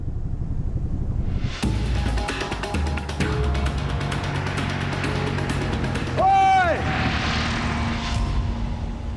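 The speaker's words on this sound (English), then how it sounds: "A spotter plane is heading straight for Theo." A spotter plane flies overhead, its engine drone growing loud and close through the middle, then a sharp pitch sweep as it passes, while excited voices shout underneath.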